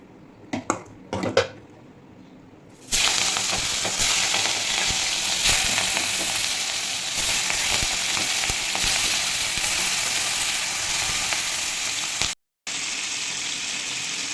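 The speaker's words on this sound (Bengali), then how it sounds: "এখন মাছগুলো ভেজে নেওয়া হচ্ছে" Loud, steady sizzling of hilsa fish frying in hot oil, preceded by a few clinks of utensils, with a brief cut near the end.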